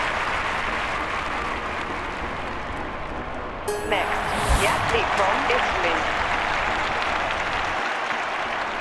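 Stadium crowd applauding in a London 2012 Olympics athletics game, a steady wash of clapping that swells loudly midway, with an announcer speaking over it.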